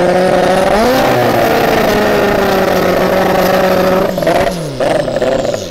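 Nissan Skyline GT-R R34 drifting, its engine pulling hard and loud with a steadily rising pitch for several seconds before briefly dropping and surging again as the revs climb once more.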